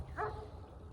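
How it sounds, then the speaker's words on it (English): A single short bark from a dog, somewhat distant and muffled, over a low rumbling outdoor background with no talking. "Shut up, dumb dog. We're about tired of hearing you."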